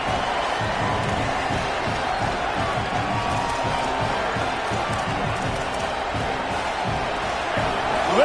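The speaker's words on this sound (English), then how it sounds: "Listen to this crowd just shaking the girders of this place trying to help their defense." A large American football stadium crowd roars continuously while the home defense is on the field, a dense, steady wall of cheering and noise with a faint voice underneath.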